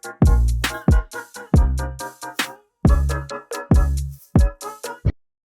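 A music track plays before any mastering plugin is added. Loud, punchy beat-driven hits come in a rhythmic stop-start pattern with bass-heavy thumps and sharp bright layers, and it cuts off near the end.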